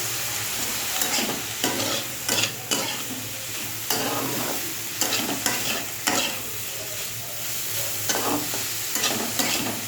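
Turmeric and cumin fry in a hot pan with a constant close sizzle, broken by frequent brisk spatula stirs and scrapes in irregular bursts throughout, with no voices.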